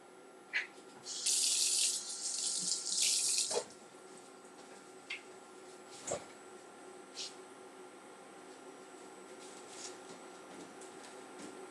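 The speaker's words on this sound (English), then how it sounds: "washing my hands" Water runs from a kitchen tap onto hands in a sink for about three seconds, a steady close rush, then stops, leaving quiet kitchen room tone with a few faint clicks and drips.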